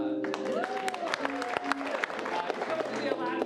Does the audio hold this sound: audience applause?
yes